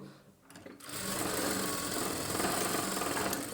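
A sewing machine stitches blouse fabric, starting after a short pause and then running in a fast, even mechanical whir up close.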